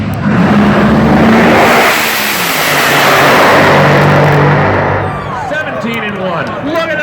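NHRA drag race cars at the Summit Racing Equipment Southern Nationals, Atlanta Dragway, launching head-to-head, produce a massive, overwhelming engine roar that swells, holds for several seconds, then fades as they pass into the distance, with an announcer talking over it.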